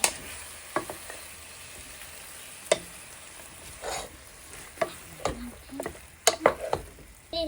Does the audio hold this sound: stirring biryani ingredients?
yes